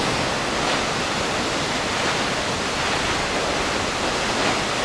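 Multnomah Falls in the Columbia River Gorge pours in a steady, dense roar of falling water, loud and close, with no breaks or voices over the whole stretch.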